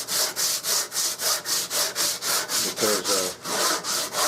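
Hand saw cutting the knob tip off a wooden Remington 700 rifle stock, about a dozen evenly paced rasping strokes close up, each stroke a loud scratchy push or pull, with one brief spoken word.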